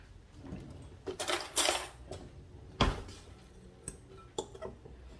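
Walnuts and sugar being stirred together in a bowl for a pumpkin walnut cake, a few scraping sweeps and clinks of the utensil against the bowl, close and fairly quiet with no talking.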